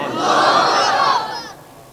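A large crowd at a Bengali religious sermon gathering roars back in unison to a takbir call, one loud sustained shout of many voices lasting about a second and a half before fading.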